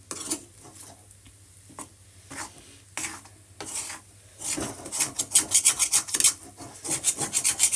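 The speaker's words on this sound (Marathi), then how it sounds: "मध्ये मध्ये असं थोडंसं खालून पण फिरवत जा म्हणजे ते चिटकणार नाही खाली" A spoon scrapes and rubs through moong dal roasting in a pan, quiet at first and then a run of quick, rhythmic rasping strokes growing louder toward the end.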